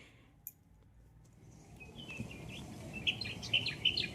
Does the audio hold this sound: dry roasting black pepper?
no